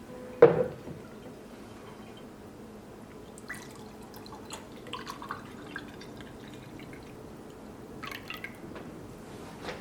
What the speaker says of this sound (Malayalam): ഇതൊരു ഗ്ലാസ്സിലേക്ക് പകർത്താം.